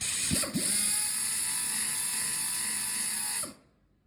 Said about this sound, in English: now we're going to sand away the paint in the crack.